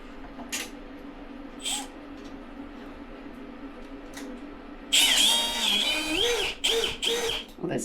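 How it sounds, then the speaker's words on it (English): A power drill whirs in loud bursts during a transducer installation aboard a Nordhavn 57 boat, rising sharply partway through after quieter handling noises and short knocks. "Am I going the right direction with this drill?"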